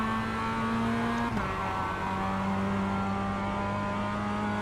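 Race car engine in the sim racing game iRacing holding a steady high drone, with a sudden pitch drop partway through as it shifts down to second gear, then settling into a lower steady tone; loud and close, no talking.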